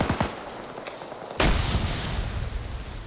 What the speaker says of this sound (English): Oh, and the grenade blows NASA's face off.